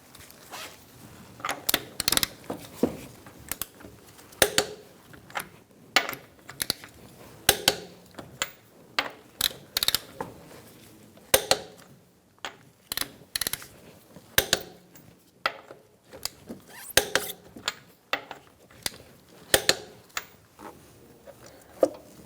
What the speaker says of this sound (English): Using a 21mm socket, we're going to torque our wheels to 150 foot-pounds.